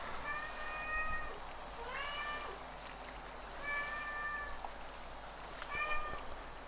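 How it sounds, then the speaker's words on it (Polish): A real house cat meows four times, close and clear, over the steady ambient hum of the fishing game Call of the Wild: The Angler. "No kot mi tutaj przeszkadza"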